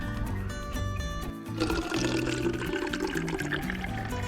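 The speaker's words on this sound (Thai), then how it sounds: "ถ้าเราใส่เหยียบมันจะกรอกง่ายเปิดกรอกเปิดกรอกเลย" Sugarcane juice pours from a stainless steel two-system juicer into small bottles, a steady close liquid stream that swells louder after a brief pause amid machine hum.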